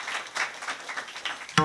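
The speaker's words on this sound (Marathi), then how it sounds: "एकदा तुमच्याच करता तुम्ही टाळ्या वाजवा" Audience at a devotional kirtan during a Ganesh festival breaks into applause, a dense crackle of many hands clapping steadily for about a second and a half before a brief sharp burst at the end.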